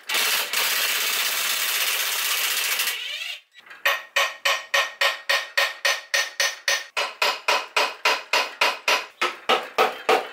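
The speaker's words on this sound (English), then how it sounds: "First thing we're gonna do is take off this V-band clamp." On a 6.0 Powerstroke turbo, a V-band clamp is worked loose: a brief scraping rush, then a long run of rapid, evenly spaced ratcheting clicks, close and clear without talk.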